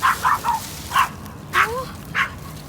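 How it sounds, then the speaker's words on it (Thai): A small dog yaps and barks at another dog being walked nearby outdoors, several short sharp barks in bursts with pauses, mid-distance, followed by a brief whimpering whine. "ตกใจเลยแล้วหมาเราก็ไปเห่าเขา"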